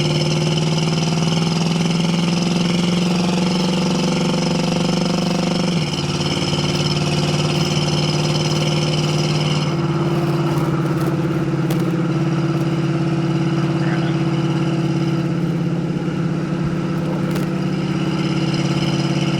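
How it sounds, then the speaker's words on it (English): A 1970 Ford Mustang Grande engine drones loud and steady while driving on a bumpy road. The pitch shifts as the revs change partway through, and a few knocks and rattles from the uneven surface sit on top of the continuous engine rumble. "Take it back down the bumpy road, and then we'll head back to the shop."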